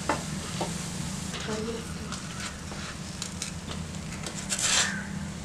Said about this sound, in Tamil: இது இந்த சைடு திருப்பி விட்டோன்னா மறுபடியும் கொஞ்சமாக எண்ணெய் ஊற்றிக்கலாம்.